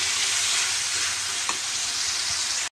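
Spices and beef tripe sautéing in a pan give a steady, close frying sizzle that runs unbroken for under three seconds, with one soft stir or scrape midway, then cut off abruptly.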